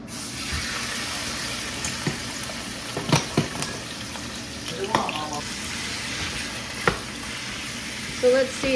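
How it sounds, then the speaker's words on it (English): Green onion whites and ground beef sauté in a home kitchen pan, giving a steady sizzle with scrapes and clinks of stirring, plus a brief burst of running tap water. "The white bits, the white parts of the green onions, we're gonna saute along with the ground beef"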